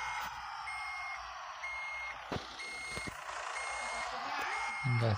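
A truck reverses to couple with a trailer, its backup alarm giving a string of regular electronic beeps over a low engine rumble, with a hiss of air and a heavy clunk near the end and people talking nearby.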